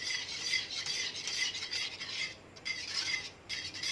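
Milk powder being stirred into cold milk for sheer khurma, a steady scraping, swishing rasp of a spoon against the pot that runs continuously with brief dips, close and moderately loud, with no talking.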